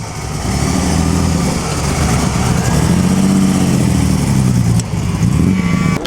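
A Frazer Nash historic racing car runs at the 2012 Monaco Historic Grand Prix, its engine loud and close with a throaty, uneven rumble that swells and dips as it is blipped, briefly easing near the end before picking back up.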